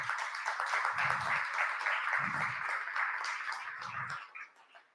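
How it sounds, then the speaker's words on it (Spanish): Audience applause at a panel on artificial intelligence in education, a steady wash of clapping held for several seconds at moderate level, with a few low thumps breaking in and the sound tailing off at the end. "les recibimos con un cálido aplauso"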